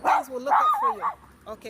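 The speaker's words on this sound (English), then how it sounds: "that's my dog barking." A dog barks and yips in short bursts close by, mixed in with a person speaking.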